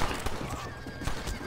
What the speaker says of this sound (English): Kentucky Saddler, a rare and agile horse